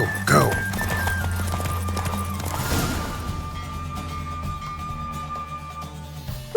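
A horse gallops in a race in The Witcher 3: Wild Hunt, with rhythmic hoofbeats and a whinny near the start, then a jolting crash and fading hooves under steady game music and voices talking.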